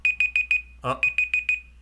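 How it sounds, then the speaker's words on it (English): A kitchen-style timer alarm beeps in two quick runs of four and five sharp, evenly spaced tones, broken by a brief voice in the middle. "Timer is up."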